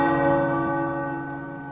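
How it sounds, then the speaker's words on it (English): Tower bells in Marvel's Midnight Suns ring out with a loud, sustained, resonant metallic tone that slowly fades over a little under two seconds, with no voices. "The tower bells are ringing."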